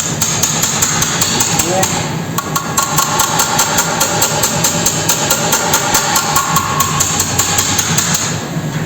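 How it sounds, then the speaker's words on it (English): Rapid, regular hammer blows ring out close by as Studebaker metal body trim caps are reshaped, a dense tapping rhythm over a constant mechanical hum. "You just come along with a hammer and look."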